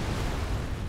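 A PUBG video game explosion: a dense, loud, continuous blast roar of rumbling noise filling the whole short stretch, with no speech.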